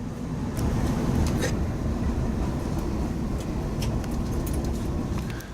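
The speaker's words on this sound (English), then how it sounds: "the Amtrak Acela sped off." Steady low rumble of an Amtrak Acela high-speed train departing along the tracks, with scattered clicks and rattles over a broad wash of rolling noise.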